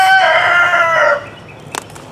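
A rooster crows loudly and close by for about a second, backed by a flock of chickens, followed by a few brief clucks and a short sharp sound near the end.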